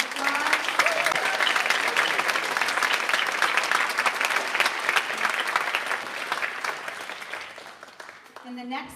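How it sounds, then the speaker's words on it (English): Awards ceremony audience applauding, a dense, loud round of clapping that holds steady and tapers near the end, with a voice briefly coming in as it dies away. "Let's give them a round of applause."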